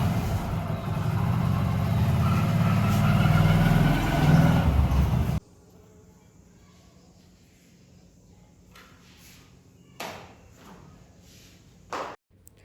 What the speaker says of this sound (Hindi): और यहाँ पे हर्ष गया था प्लॉट में तो बाइक लेकर के आया है।